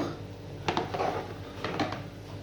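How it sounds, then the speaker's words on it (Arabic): Chicken pieces being laid into a baking tray over halved tomatoes, giving a few soft, close thuds and clinks against a steady background hum. "وهنرص الفراخ"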